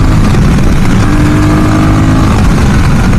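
A Royal Enfield Guerrilla 450 roadster motorcycle under way, its engine note steady and loud throughout with strong low rumble and wind rush, no pauses or gear changes standing out.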